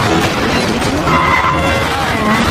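Motorcycle chase in the Black Widow film, with loud, dense skidding and tire squeal over racing engine noise, ending as the motorbike flips over and crashes; busy and continuous throughout.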